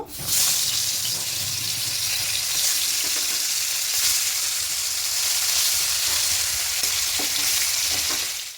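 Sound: sardine-like fish frying in hot oil

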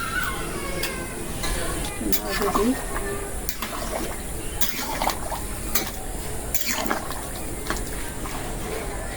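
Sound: washed lentils and water being added to a pot

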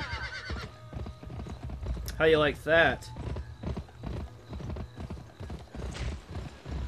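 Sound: horse hooves clip-clopping in the video game Gun

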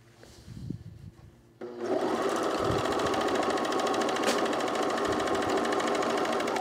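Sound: serger overlocking a seam on a waterproof coat

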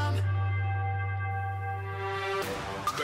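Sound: reversed bell sound in a song transition

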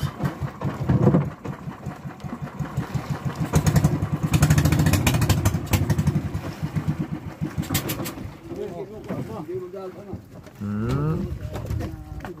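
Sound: fishing boat engine idling

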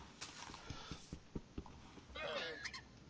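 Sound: llamas making noise in Minecraft video game

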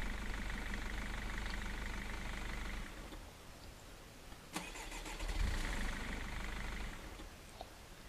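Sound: car engine running while driving off

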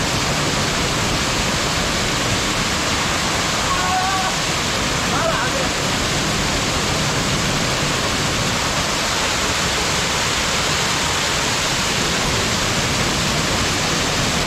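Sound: small waterfall pouring into a pool

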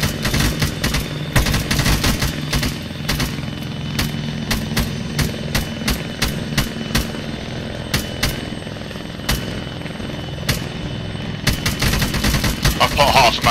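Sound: gunfire in a video game co-op mission

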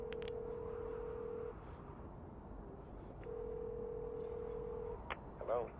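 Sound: payphone dialing in video game Beyond: Two Souls

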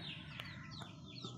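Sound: black hens clucking

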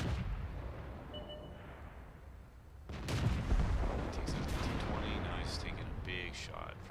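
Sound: tank gunfire from an SU tank in a video game

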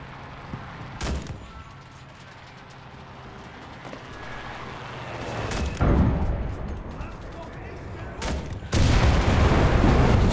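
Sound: gunfire and explosions in the video game Enlisted, Stalingrad

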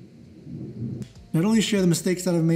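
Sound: thunder during a rainstorm

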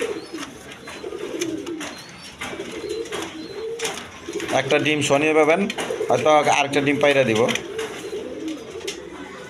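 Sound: satin pigeons cooing

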